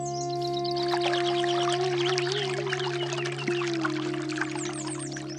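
Water poured in a steady, fairly loud stream, running alone over a sustained, droning musical tone throughout.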